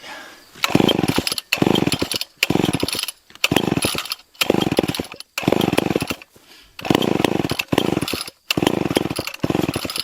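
A chainsaw engine revs loudly in repeated bursts, cutting out briefly between each surge, close by and with no talking.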